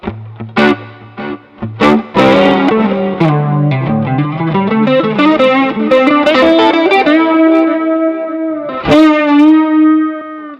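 Electric guitar played through a NUX Mighty Plug MP-2 headphone amp set to spring reverb, with plucked notes and then sustained chords ringing out with a long, washy tail, loud and alone.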